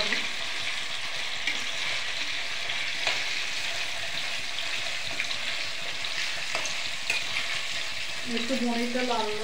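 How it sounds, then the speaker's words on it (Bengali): Cubes of paneer fry in a pan while being stirred, a constant near sizzle with a few sharp scraping clicks. A faint voice-like tone rises near the end. "পনিরটা খুব ভাজা করে নিতে হবে।"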